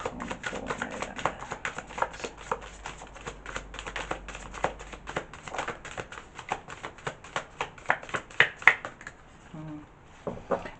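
Tarot cards being shuffled by hand for a reading, a steady run of soft, rapid flicks and riffles close by, ending in a few handling taps.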